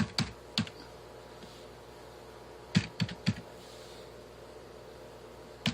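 Typing on a computer keyboard to enter a web address, a few sparse key clicks in small clusters, close and quiet against a faint background hum.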